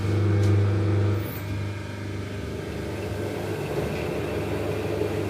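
An electric motor drives a cone against a big flywheel at the base of a vertical shaft, producing a steady whirring hum with a louder tonal drone in the first second before settling into an even running whir.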